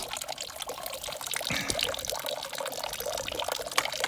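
Water trickling from a hose into a forest trough, a continuous close splashing, gurgling flow with small drips, steady throughout.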